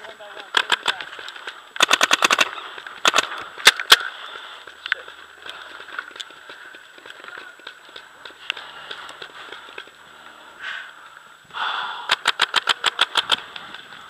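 Paintball guns fire at an outdoor paintball field in several quick strings of sharp pops, some close and some farther off, with quieter gaps and low background noise between bursts.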